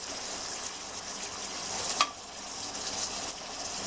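Chopped tomatoes and red chili powder sizzle in a pan for egg rice, a steady close frying hiss with a small splutter midway and no talking.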